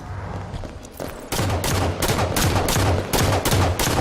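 Rapid bursts of gunfire in the Halo 5 video game, sharp repeated shots in quick succession growing denser and louder after a brief lull, close and punchy.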